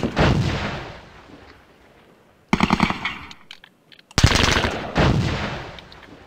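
Gunfire from a Squad Battles Grenada video game: a loud opening burst that fades, then a sharp rattling machine-gun-like volley, a brief gap, and a heavy blast with a decaying tail and a second burst.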